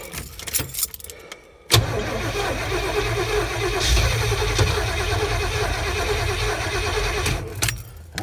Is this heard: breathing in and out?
no